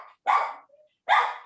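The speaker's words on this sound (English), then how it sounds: "little interruption, but the dog Mela is doing her job very well" Two sharp, loud dog barks close by, separated by a short silent gap, with a faint whine between them.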